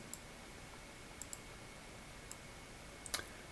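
A single sharp mouse click as the save button is pressed on a computer, a brief faint tick near the end of an otherwise quiet stretch, with a few softer ticks earlier.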